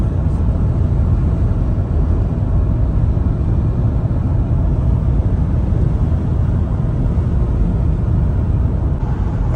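Steady low road and engine rumble inside a Peugeot 508 cruising on a highway under cruise control, a constant loud drone with no changes and no talking.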